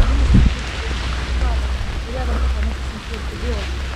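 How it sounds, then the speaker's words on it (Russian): Heavy rain pours down in a city park on a cool day, a steady close hiss of falling water with a brief voice near the start and faint squeaks underneath. "Ох, какой ливень, ребят."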